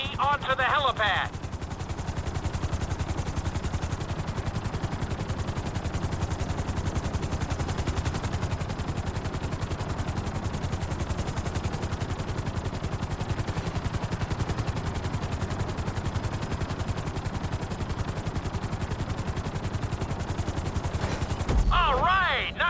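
Helicopter in GTA V setting down on a helipad, a loud continuous rotor thump and engine roar holding steady throughout the clip.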